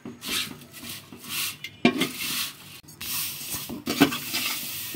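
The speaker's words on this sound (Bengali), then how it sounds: "এখানে 2 প্যাকেট সেমাই নিয়েছি আমরা, একটু কম আঁচে ভেজে নিচ্ছি" Dry shemai vermicelli, two packets, toasting in a pan over low heat for jorda shemai, giving a soft continuous crackle and scrape with occasional louder clatters of a spoon or spatula against the pan.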